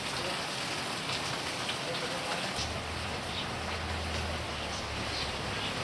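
Dense, steady rain pours down hard, a constant loud hiss of drops hitting surfaces with a low rumble underneath.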